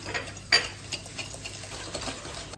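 Sugar, egg and butter being mixed in a bowl give quiet, irregular scraping and clinking of a utensil against the bowl, with one sharper knock early on.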